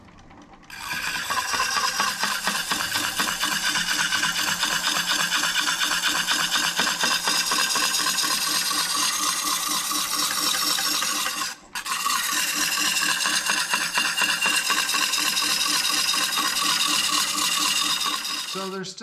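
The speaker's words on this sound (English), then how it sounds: "before I used the scraper" Steel scraper smoothing the inside of a turned mesquite bowl on a lathe, a steady close rasping scrape running continuously for about ten seconds, a brief pause, then resuming to the end.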